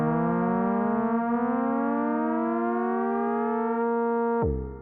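Two oscillators on a Novation Bass Station II synth slide slowly upward in pitch on different glide times, a loud sustained buzzy tone that cuts off abruptly near the end.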